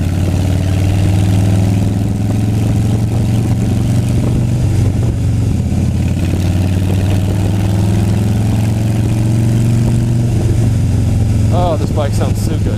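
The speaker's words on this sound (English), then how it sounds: "this bike sounds so good" A motorcycle engine runs at a steady idle, loud and close, with a deep continuous hum and no revving.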